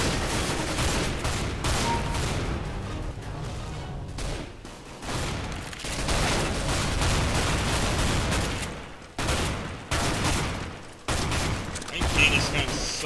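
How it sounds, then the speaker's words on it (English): Shotgun blasts in a video game, dense rapid bursts of loud gunfire and booms nearly continuous with brief gaps, over a noisy game soundtrack. "this shotgun is absolute garbage"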